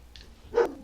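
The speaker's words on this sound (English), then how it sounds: "That was barking." A single short dog bark, moderately close, preceded by a faint higher yip, with quiet background otherwise.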